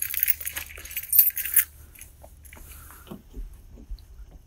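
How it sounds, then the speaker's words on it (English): A bulky bunch of keys for a 1996 Buick Roadmaster wagon jangles in a few short metallic bursts close to the microphone, then quieter handling clicks follow. "These keys are bulky enough as it is."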